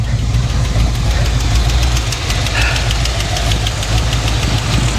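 A 1955 Chevy Bel Air, burnt and left sitting, runs roughly on its own with a loud, uneven knocking idle and a steady low-end shake, close up throughout.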